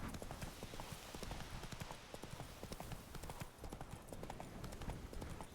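Roach the horse galloping in a video game: rapid, crisp hoofbeats in a steady clip-clop rhythm, continuous and close, with faint game ambience underneath.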